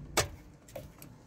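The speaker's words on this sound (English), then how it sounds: "So this is the new key" A new car key jangles faintly with one quick metallic clink, then a few softer, scattered ticks. The sound is quiet and close, with no talking over it.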